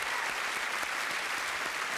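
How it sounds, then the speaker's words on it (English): Steady, dense applause from a studio audience at a comedy chat show, a continuous wash of clapping hands with no voices over it. "A round of applause, ladies and gentlemen."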